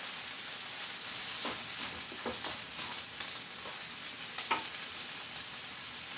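Food frying hard in a pan over a high flame gives a loud, continuous sizzle, broken by several sharp scrapes and clatters as it is stirred, with no talking.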